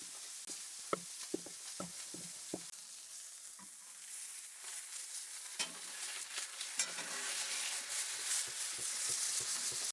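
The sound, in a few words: steaks sizzling in a frying pan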